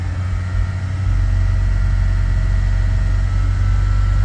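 A Wuling Almaz car engine is run hard to blow carbon deposits out through the exhaust during a tune-up, a loud, continuous, close low drone with a rougher patch at the start.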